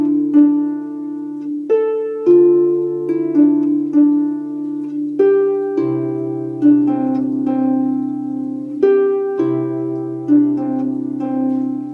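Harp playing the ending of Brian Boru's March, including a D struck with both hands together: plucked notes over a low bass line, ringing and resonant, with repeated phrases played close and clear with no speech.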